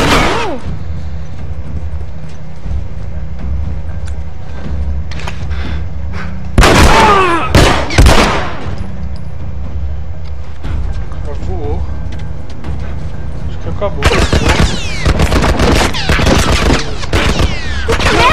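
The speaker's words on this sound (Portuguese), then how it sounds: "Que merda, eles estão atirando em nós! Algum tipo de torre de tiro militar, se abate!" A military gun turret in The Last of Us video game opens fire in sharp bursts, with loud volleys crackling in clusters and a heavier barrage near the end, while a voice talks between the shots.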